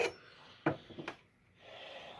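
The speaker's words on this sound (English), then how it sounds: "Now it definitely leaves a burr, but that's kind of what all filing will do." An axe blade being sharpened with a hand file gives a few short, quiet rasping strokes, spaced apart, with near-silence between them.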